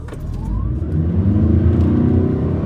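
A 2020 Toyota RAV4 Hybrid SUV accelerates hard in sport mode, engine revving up and pulling, a loud close rumble rising in pitch.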